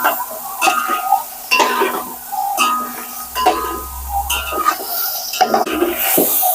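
Spiced boiled eggs fry in oil in a pan as a spoon stirs them, giving loud repeated scraping and clinking strokes over a continuous sizzle.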